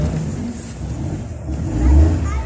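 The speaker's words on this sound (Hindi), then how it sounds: "गाड़ी आपके सामने देखें स्टार्ट हो गई।" A small 800–1000cc car engine idles steadily right after a new battery is fitted, a continuous low rumble with a slight swell near the end and faint background noise.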